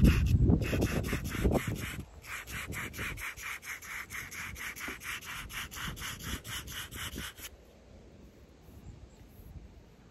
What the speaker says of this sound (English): You're only trying to sandpaper the metal